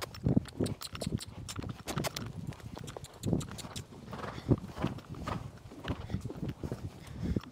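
Racehorses walk through a sand roll during a warm-up before cantering, their hooves giving irregular soft clip-clops, several horses close by, moderately loud, with no one talking.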